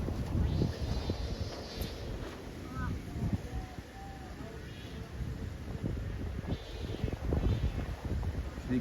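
Strong wind buffets the microphone on an open field during a kite flight, a steady broadband roar with gusting swells, while people talk and shout intermittently throughout.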